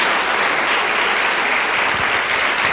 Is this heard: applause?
yes